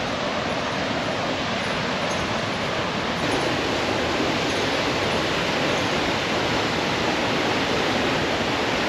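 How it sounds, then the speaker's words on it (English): Overland Falls on the Fraser River, a steady, loud, broadband roar of falling water that stays constant and close throughout, with no voices. "That's Overland Falls. Pretty spectacular."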